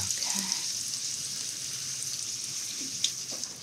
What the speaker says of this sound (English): we'll let that fry